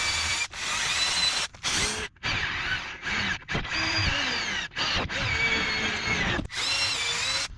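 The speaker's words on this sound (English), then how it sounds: "I changed to this bit to get into these tight areas right here where the drain plug is for the brake fluid." A drill fitted with a small bit cleans tight spots on a brake caliper near the brake fluid bleed plug, whirring in repeated short bursts with brief stops, loud and close, with no talking.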